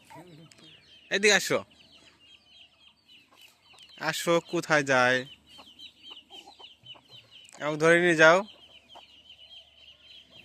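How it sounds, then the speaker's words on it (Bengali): Village chickens cluck and squawk in three loud bursts, close by, between stretches of a woman and a small girl calling and chatting in a rural courtyard. "দেখছো মুরগি?"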